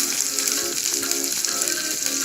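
Spices fry in oil in a pan for chicken curry, a steady crackling sizzle at even volume, close up with no voices.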